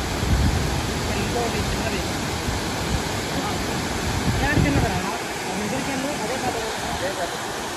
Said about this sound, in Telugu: ఇదే నేను చెప్పిన పెద్ద వాటర్ ఫాల్స్